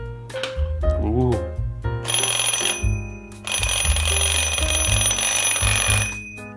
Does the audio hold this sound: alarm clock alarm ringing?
yes